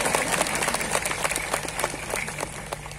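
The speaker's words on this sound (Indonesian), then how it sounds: "Tepuk tangan dulu ya." An audience of police officers at a Maulid prayer gathering in Klaten applauds a woman preacher, with scattered, fairly close claps standing out over a busy hall murmur for about three seconds.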